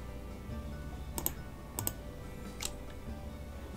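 Computer keyboard keys pressed during 3D modeling work, a few quiet separate clicks and a short cluster of taps over a low room hum, no one talking.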